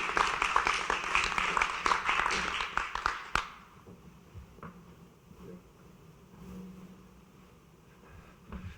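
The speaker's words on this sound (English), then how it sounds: "So can we just give Kai a round of applause right now" Summit panel audience claps in a brisk round of applause for about three seconds, loud and dense, then it cuts off abruptly into a quiet room with faint shuffling and low background hum.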